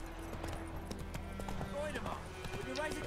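Roach, the horse in The Witcher 3, gallops with a steady rapid clip-clop of hooves heard up close, joined by a brief snort, while a person talks over the hoofbeats.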